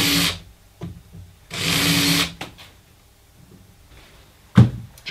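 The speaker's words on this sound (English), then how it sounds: "We're drilling out the pilot hole." A power drill whirs in two short bursts while drilling a pilot hole for a wardrobe hinge plate, separated by quieter handling noises and a sharp knock near the end.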